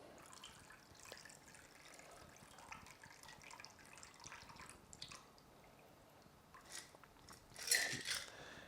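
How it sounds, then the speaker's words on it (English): A classic Cosmopolitan cocktail pours into a glass with soft splashing and trickling liquid, building to a brief louder gush near the end, with no talking. "Let's pour."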